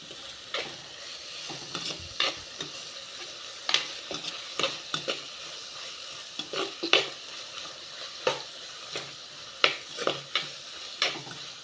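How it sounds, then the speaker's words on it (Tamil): Onions stir-fried in a pan for a tomato egg gravy, with a steady frying sizzle broken by frequent sharp scraping strokes of a spoon against the pan. The strokes come at irregular intervals and are heard close and alone, with no talk. "பச்சை வடை போகிற வரைக்கும் வெங்காயத்தோடு சேர்த்து நல்லா வணங்கணும்"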